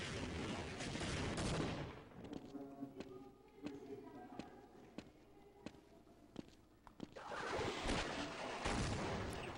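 A grenade launched in the game Half-Life: loud broadband blasts open and close the stretch, with a quieter middle marked by sharp, rhythmic gunfire-like cracks.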